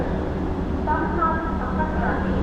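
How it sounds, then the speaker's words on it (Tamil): Train arriving at Trichy railway station, a steady low rumble with faint squealing tones in the middle of the clip, with people talking nearby. "ட்ரிச்சியிலேருந்து நிசாமுதீன் போகிற ட்ரெயின் வந்துருச்சு."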